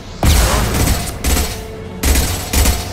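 Gunfire in the sci-fi video game Mass Effect 2: four loud, heavy bursts of weapon fire come in an uneven rhythm, each one booming and then fading under a continuous background rumble.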